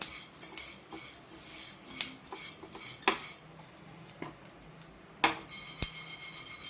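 Flax seeds roast in a dry pan and crackle in sharp, irregular pops and ticks over a low hiss. The pops are close and moderately loud, with several stronger snaps scattered through the sound and no talking.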